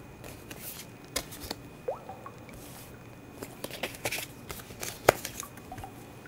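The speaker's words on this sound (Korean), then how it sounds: "추가 카드로 두 장의 카드를 더 뽑아보도록 할게요." Tarot cards are shuffled and drawn close by, giving soft papery riffles, slides and a few sharper snaps spread unevenly through the stretch, with no voices.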